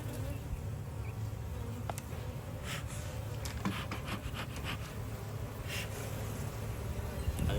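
Constant hum of honeybees buzzing nearby during a hive inspection, with scattered light scraping and rustling sounds over the drone.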